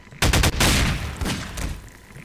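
A burst of loud, rapid explosive blasts and gunfire-like bangs erupts, then tapers into rumbling noise, as exploding zombies detonate in Garry's Mod combat.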